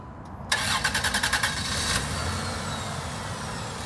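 A Dodge Dynasty car engine cranks with a rapid series of starter pulses, catches and settles into a steady, close idle, with no talking.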